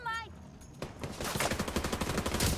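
Rapid automatic gunfire in the video game The Division 2, a dense rattling burst of shots that starts after a brief pause and continues steadily, with a player's voice faintly underneath.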